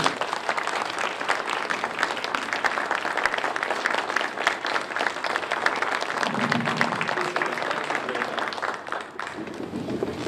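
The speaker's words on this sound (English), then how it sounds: "At this time, please give us a round of applause for Mr." Audience at a Juan Seguin celebration gives Henry Cisneros a round of applause, sustained dense clapping from a large crowd with faint voices mixed in.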